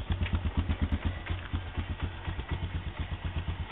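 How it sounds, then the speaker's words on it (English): A Honda TRX 250 TM Recon four-wheeler ATV idles close by, its small engine putting out a steady, rapid low-pitched chug with slight clattering throughout, and no voices. "my new four-wheeler."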